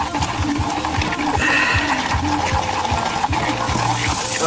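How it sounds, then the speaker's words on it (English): Sand being hand-mixed with black iron oxide pigment, a steady gritty scraping and stirring that stays close and continuous throughout, with no talk. "And mix all the sand, and I'm gonna put a little bit more black iron oxide just for good measure in there."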